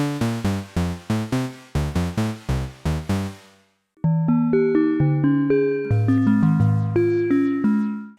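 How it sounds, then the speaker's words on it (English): Metallic frequency-modulation tones from a Sequential Take 5 synthesizer, first a rapid run of plucked bell-like notes, then a slower melodic line of ringing clangorous notes, close and clear with no talking. "using frequency modulation, we can also get these kind of more metallic tones"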